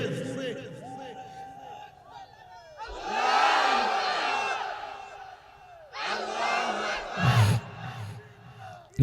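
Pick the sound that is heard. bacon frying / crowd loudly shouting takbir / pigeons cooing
crowd loudly shouting takbir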